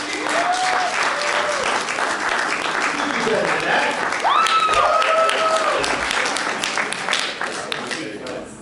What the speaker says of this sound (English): give a loud round of applause for your keynote speaker this morning, Mr. Mike Mallory